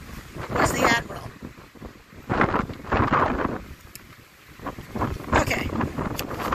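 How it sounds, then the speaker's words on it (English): Strong wind buffets the microphone outdoors, gusting in loud rumbling bursts while someone talks through it. "bear with me, it's very windy."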